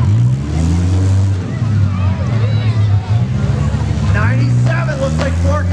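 Several demolition derby cars run engines in the ring at a county fair, a loud steady rumble with revving surges, over crowd noise and an announcer talking.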